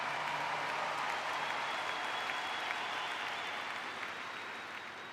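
A large crowd at a memorial event in Arizona applauds in a broad, steady wash of clapping heard from a distance, fading gradually toward the end.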